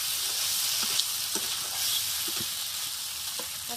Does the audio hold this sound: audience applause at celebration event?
no